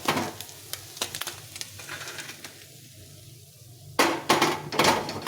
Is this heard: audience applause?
no